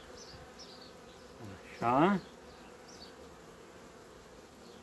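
A very strong honeybee colony with four frames full of brood hums steadily at an open hive, a continuous low drone close by, while someone speaks briefly over it.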